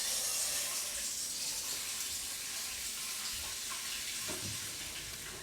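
Water runs steadily from a tap into a cold water bath for cooling milk, a loud continuous hissing flow that tapers slightly, with a few light knocks near the end.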